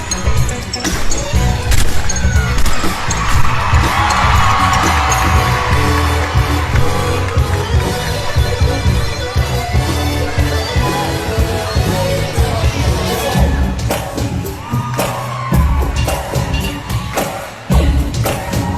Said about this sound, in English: crowd goes wild for that opening double layout.